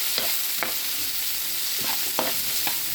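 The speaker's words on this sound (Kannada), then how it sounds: "ಚೆನ್ನಾಗಿ ಫ್ರೈ ಆಗಬೇಕು." Tomato and onion fry in a pan with a constant close sizzle, broken by a few quick stirring scrapes.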